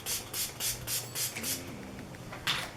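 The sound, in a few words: glitter spray being sprayed on chest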